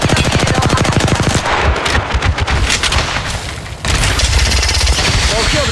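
Dense automatic gunfire in the shooter Apex Legends, loud and continuous with rapid bursts, a short lull in the middle before the firing resumes at full intensity.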